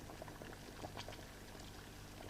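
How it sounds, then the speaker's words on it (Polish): Olive oil pouring in a thin trickle into a pot of water on a hot stove, a faint, continuous liquid patter with a soft bubbling bed beneath, quiet and close. "Teraz dodam odrobinę oliwy."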